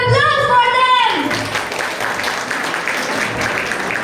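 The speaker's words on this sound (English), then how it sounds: "Can we have a huge round of applause for them?" An audience at a Teachers Day celebration breaks into steady applause that rises after a brief speaking voice and holds as a dense, even wash of clapping to the end.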